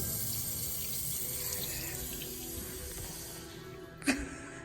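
Steady stream of water running from a sink tap, a continuous close hiss through most of the clip, broken near the end by a brief sharp knock.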